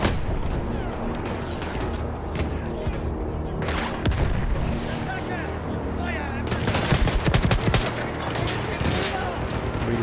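Rapid bursts of heavy gunfire and booming cannon shots crackle in a busy battle in the video game Battlefield 1, repeated in clusters over a constant low rumble.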